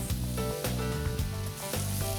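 Red and green bell peppers sizzle and crackle loudly in butter in a hot pan, a constant frying hiss with small pops, heard up close with no talking.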